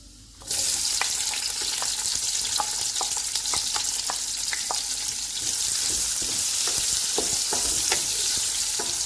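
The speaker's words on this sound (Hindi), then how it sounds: "जब ऑयल गर्म हो जाएगा तो इसमें साबुत मसाला डाल देंगे।" Hot oil sizzles steadily and loudly close by, with scattered pops and crackles as whole spices fry, the sizzle starting abruptly.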